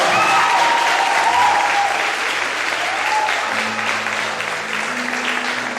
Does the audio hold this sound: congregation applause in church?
yes